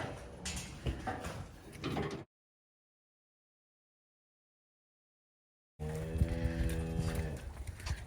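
Cattle being pushed back across into their shed on a farm, with a clear moo and shuffling livestock noise around a stretch of silence where the sound drops out.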